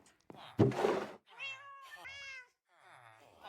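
A Minecraft cat meows several times in a row, clear and close, with short gaps between the calls. A soft thump comes before the meows and another at the end.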